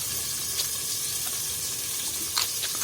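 Green chillies frying in oil in a pan: a steady, soft sizzle with occasional small pops and crackles, continuous and close.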